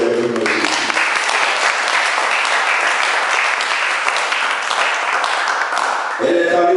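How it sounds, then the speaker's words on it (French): A church congregation applauds loudly and continuously, a steady wash of clapping that fills the hall and then fades as a voice returns at the end. "Est-ce qu'on peut acclamer le royaume de Jésus?"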